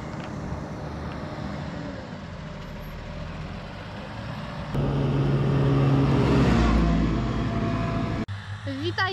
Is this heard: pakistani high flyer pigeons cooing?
no